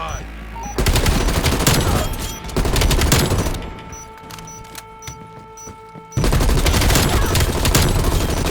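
Dense bursts of rapid automatic gunfire from an XM4 rifle in Call of Duty: Black Ops Cold War, loud and close, with brief lulls between volleys and a steady electronic hum in the quieter stretch.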